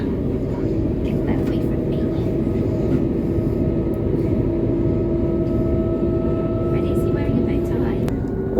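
Cabin of a Southern passenger train running toward Three Bridges, a steady loud low rumble and hum of the moving coaches with faint squeaks and rattles throughout.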